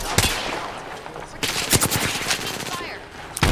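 Video game firefight with a squad under fire: sharp gunshots crack repeatedly amid a dense burst of rapid automatic fire, loud and close, with brief voice activity in the mix.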